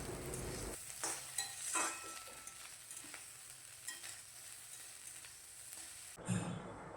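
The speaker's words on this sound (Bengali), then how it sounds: "আলু সেদ্ধ, তারপর ডিমের ঝুড়া আর ভাত একসাথে হালকা করে ফ্রাই করে নিলাম" Scrambled egg and rice fry together in a pan with a soft, quiet sizzle, accompanied by scraping stirs and a louder clatter at the start and near the end.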